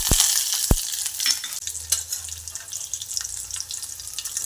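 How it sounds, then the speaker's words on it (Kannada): Mustard seeds, cumin, garlic and curry leaves crackle in hot oil for a ragi dosa recipe, a steady bright sizzle with a couple of sharp pops near the start and stirring underneath. "ಎಣ್ಣೆ ಕಾದ್ಮೇಲೆ ಸ್ವಲ್ಪ ಸಾಸಿವೆ, ಜೀರಿಗೆ, ಬೆಳ್ಳುಳ್ಳಿ ಮತ್ತು ಕರಿಬೇವು ಹಾಕ್ಬೇಕು ನೋಡ್ರಿ"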